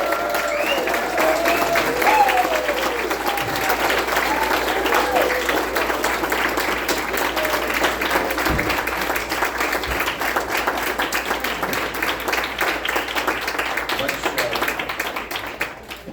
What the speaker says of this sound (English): Can we please just give them one final round of applause?